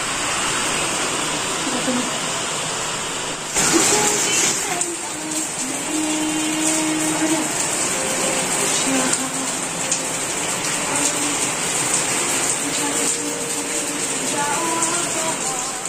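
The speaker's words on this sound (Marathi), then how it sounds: "इतका पाऊस पडतोय आमच्या इकडं" Heavy rain pours down in a steady, dense hiss that lasts throughout, with a brief louder surge near the start and faint tonal sounds and background activity mixed underneath.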